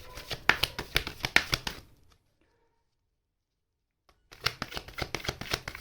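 Tarot cards shuffled by hand in quick riffling bursts, close and crisp, stopping for about two seconds of silence before the shuffling resumes.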